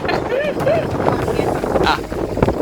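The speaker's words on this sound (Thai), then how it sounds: "ลมแรงมาก" Strong storm wind buffets a microphone outdoors at a field hut during rain, a loud continuous rumbling roar with gusty swells throughout, and a voice faintly audible beneath.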